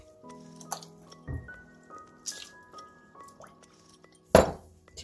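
Chicken breast goes into a pot of water seasoned with salt, bay leaves and peppercorns, giving soft drips and clinks followed by one louder splashing plop near the end.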